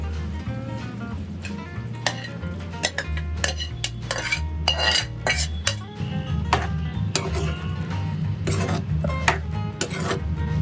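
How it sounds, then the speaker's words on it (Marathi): Chickpeas for chole tipped into a cooking pan, with close clinks and scrapes of a utensil against metal over a soft sizzle, while music plays underneath. "तर आता आपण टाकूया छोले"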